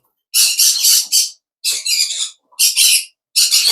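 Harsh, raspy squawks of pet parakeets, including pineapple conures, in four loud bursts separated by short pauses, close by, with no talking.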